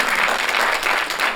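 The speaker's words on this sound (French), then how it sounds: "alors vous pouvez applaudir encore" An audience at a French film and sound award ceremony applauds, a dense steady clapping that fills the room without pause.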